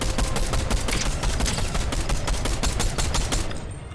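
Rapid, continuous automatic gunfire from the Fortnite battle royale game: dense, loud, overlapping bursts that barely pause before thinning out near the end.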